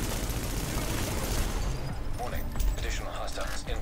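A deployed turret fires in Tom Clancy's The Division, a dense burst of rapid gunfire that thins out as a voice talks over the later part.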